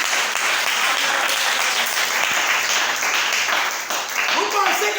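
A church congregation applauding and acclaiming together, a steady dense wash of clapping mixed with raised voices that holds at an even loudness throughout.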